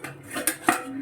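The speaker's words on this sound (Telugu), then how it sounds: "ఒకసారి కర్రీ కలుపుదాం." A spoon scrapes and clinks against a pot while chicken curry is stirred, two or three quick close metallic knocks over a brief moment.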